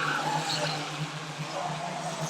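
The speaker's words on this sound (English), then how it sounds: "the rest of the cars fly around Onchan Raceway" Stock cars racing around Onchan Raceway make a steady, distant roar of engines that holds for the whole stretch, with a faint tyre squeal layered over it and no clear breaks.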